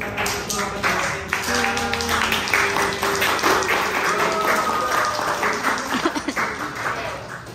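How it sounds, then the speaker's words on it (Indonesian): Audience applause at an environmental debate on zero paper consumption, steady mid-level clapping running the full length with a voice talking over it throughout. "beri tepuk tangan untuk"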